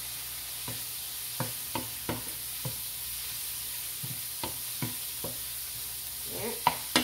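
Swiss red chard stir-fried with soy sauce: a soft, continuous sizzle under repeated sharp clicks and scrapes of a utensil against the pan, with a louder knock near the end.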